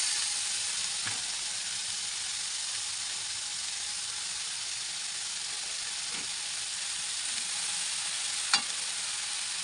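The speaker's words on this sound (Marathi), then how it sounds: "आता मी टाकते इथे आपली बारीक चिरलेली पत्ताकोबी." Finely chopped cabbage frying in a pan while being stirred, a steady close hiss of sizzling with a few soft scraping stirs, heard alone without talk.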